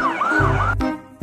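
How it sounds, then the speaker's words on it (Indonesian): A toy police car's electronic siren sweeps up and down in a loud, close wail, switches to a lower buzzing tone, drops out briefly, then restarts. "ada mobil polisi juga."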